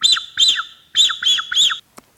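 A bird call whistle imitating a blackbird gives five bright, sharp chirping notes in a quick uneven run, loud and close, followed by a couple of soft clicks.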